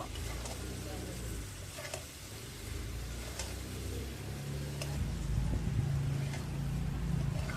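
Boiled elephant foot yam pieces frying with spices in a pan, giving a soft steady sizzle with occasional stirring scrapes over a low background rumble, fairly quiet and close.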